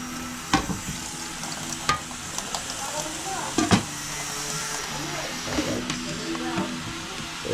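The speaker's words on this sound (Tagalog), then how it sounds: "Ito, prito to kay owner. Tilapia." Steady oily sizzling of tilapia frying in a pan, with occasional clinks of a utensil and faint voices in the background.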